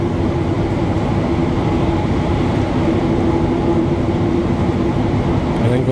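A Montreal metro train runs between McGill and Acadie stations, a steady loud rumble and hum of the moving car heard from inside, constant throughout with no clear speech.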